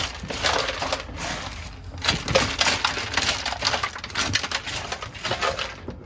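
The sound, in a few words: hammering out sound deadening in car footwell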